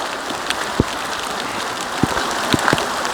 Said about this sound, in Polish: A nie, grad jednak, mam we włosach śnieg.